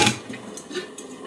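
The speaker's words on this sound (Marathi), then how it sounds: "ती पॅन ठेवलाय आता मी गरम करायला गॅस" A metal wok is set down on a gas stove with a short clattering clank, followed by a couple of faint, light metallic taps in an otherwise quiet kitchen.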